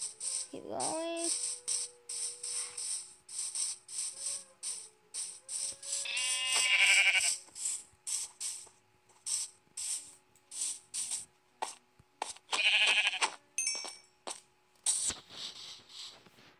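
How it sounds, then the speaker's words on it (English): Sheep in the Minecraft video game bleat in a few short, clear calls spread apart, among rapid rhythmic game sound effects. "Sheep."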